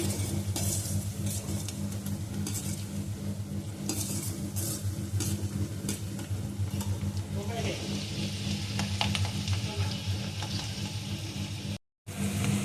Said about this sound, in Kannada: ಸ್ವಲ್ಪ ಹೊತ್ತು ಫ್ರೈ ಆಗಲಿ ನೋಡ್ರಿ